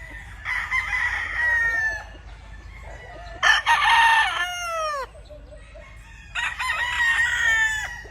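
A Spaniel Hatch gamefowl rooster on a game farm crows three times, close and loud. The long, drawn-out calls are separated by short pauses.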